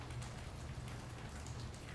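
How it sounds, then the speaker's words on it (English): Steady rain pattering on a surface at the start of a spring storm front, a dense continuous wash of drops with no talk and no distinct thunder. "You can hear some of the rain and some of the thunder."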